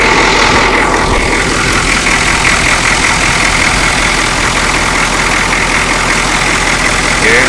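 A 1985 Ford F250 pickup idles steadily after starting, a loud, continuous broadband engine rumble with a constant hiss running through the whole stretch, close by.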